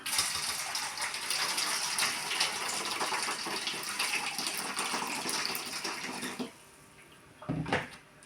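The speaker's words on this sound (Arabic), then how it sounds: "ملي يبرد عليها الماء شويه نزيدو شويه الماء" Water gushes steadily into a pot while harissa sauce is being prepared in a home kitchen, then the flow stops and is followed by a brief splash.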